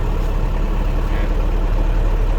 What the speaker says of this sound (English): That shaft doesn't sound real good. I think my winch drive shaft might need a little bit of work.